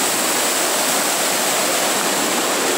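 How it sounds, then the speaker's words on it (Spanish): A large waterfall in Patagonia, near Epuyén, pours down with tremendous force, making a loud, constant, close roar that runs without a break. "Estamos llegando a la cascada mayor. Mirá la fuerza con la que baja."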